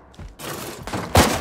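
A flashbang grenade goes off in Firewall Ultra with a sudden loud burst and a bright, hissing ring trailing after it, close and intense, following a softer thump moments before.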